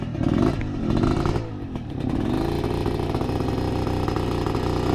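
A motorcycle engine revs and strains while climbing a rocky uphill trail, loud and close, with a dip in the middle before the engine settles into a steady labouring drone.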